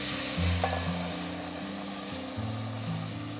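Heavy cream being stirred into a sizzling bechamel sauce in a pan, a steady hissing fry with soft stirring and no talk.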